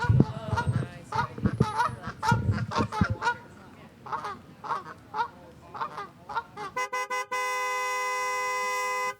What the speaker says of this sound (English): The geese are starting to swarm.